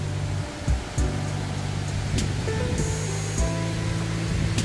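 A swollen mountain stream in the Singbulsan valley of the Yeongnam Alps rushes with dense, continuous roaring water noise, loud and close throughout.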